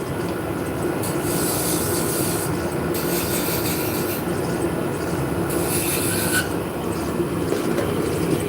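A wood lathe spins a workpiece while a beading tool, a pointed scraper, cuts into it, producing a continuous loud rasping hum with scraping bursts that swell and fade.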